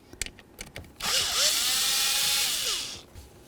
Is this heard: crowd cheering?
no